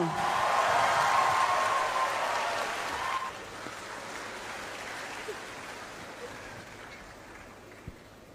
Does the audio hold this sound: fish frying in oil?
no